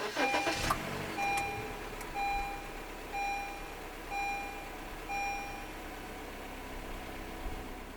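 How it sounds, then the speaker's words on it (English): Push-button start of a 2017 Honda BR-V 1.5 V with the key fob inside, beginning with a short burst of starter and engine noise, then a quiet idle under a repeating series of regular electronic chimes. "Put your foot on the brake and press the start button to the right of the steering wheel."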